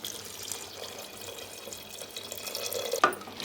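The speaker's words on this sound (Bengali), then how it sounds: "এখন আমি দিয়ে দিচ্ছি পানি" Water is poured into a pan of chickpeas being cooked for boiling in a pressure cooker, a soft, steady splashing stream close by that ends with a brief knock, with no speech.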